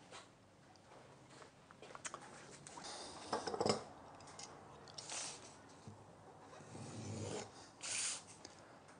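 A freshly sharpened hand plane blade slices through a sheet of paper, giving a few soft, dry rasping cuts spread over several quiet seconds against a faint background.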